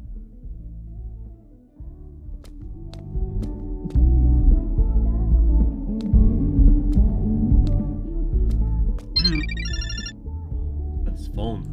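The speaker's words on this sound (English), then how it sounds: "That's phone again." A phone rings repeatedly in the horror game The Karaoke, a regular electronic ringing pulse under low droning background music, with a person talking over it.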